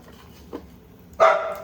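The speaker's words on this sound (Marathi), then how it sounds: "माझा हा कुत्रा उगाच भुकतोय" A single dog bark rings out fairly close, preceded by a fainter short yelp, against a quiet indoor kitchen background.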